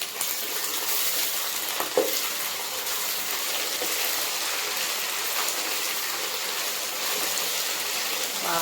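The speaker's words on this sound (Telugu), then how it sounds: "ఇప్పుడు ఇవి బాగా వేగినాయి" Chicken and millet frying in a pan for biryani, a steady dense sizzle held at an even level for several seconds, close by, with one small clatter near the start and no talking.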